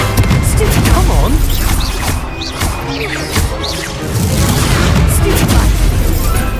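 Spell combat in Hogwarts Legacy, with the Stupefy stun spell cast repeatedly. Loud booms, crashes and impact bursts come in quick, overlapping succession, forming a dense barrage throughout.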